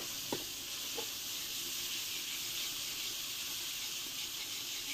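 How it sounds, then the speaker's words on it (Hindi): Ginger garlic paste fries in a pan for chicken bhindi: a soft, even sizzling hiss throughout, with a couple of light utensil clicks near the start and no talking. "अभी हम इसमें डालेंगे अदरक लहसुन का पेस्ट अच्छी तरह से भूनेंगे अदरक लहसुन के पेस्ट को"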